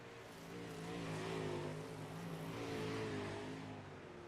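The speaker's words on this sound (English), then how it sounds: "Drivers going to head back out onto the racetrack for 5 quick minutes of practice" 305 sprint cars in practice laps at Kern County Raceway Park, engines droning steadily from a distance, the roar swelling and fading as the cars circle the track, with no voices over it.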